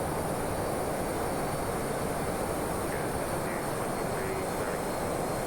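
Learjet 35A jet engines in a flight simulator game, a steady broad roar with a constant whine and no clear change in level, heard without talk.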